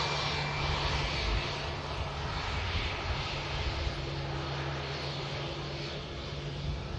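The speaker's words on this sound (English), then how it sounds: "the Lauda now continues its taxi onto 23 left" A Lauda Europe jet airliner taxis onto runway 23 left at Manchester Airport, giving a steady, broad engine roar and whine heard from a distance, constant and unbroken with no voices over it.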